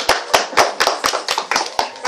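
A small crowd claps in a quick, uneven rhythm, sharp hand claps ringing out close by while voices chatter underneath.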